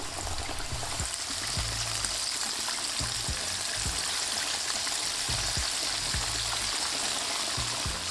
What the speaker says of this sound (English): Now this goes straight into the hot oil.